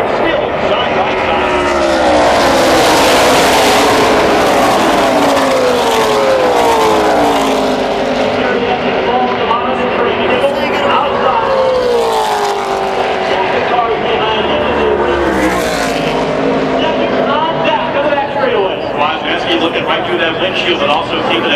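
Stock cars race side by side in a pack at Daytona during the ARCA Lucas Oil 200, engines roaring loud and steady with rising and falling pitch as cars pass, under continuous race commentary.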